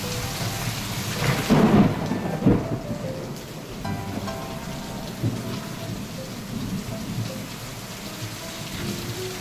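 Heavy rain pours steadily outside as a continuous loud hiss, with a rumble of thunder early on and no voices.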